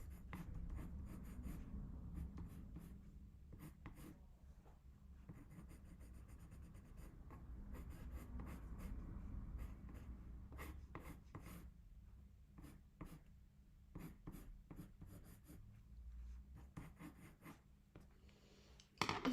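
Colored pencil blending over paper for a portrait, a steady soft scratchy rubbing with short pauses between strokes, close and fairly quiet, no talking.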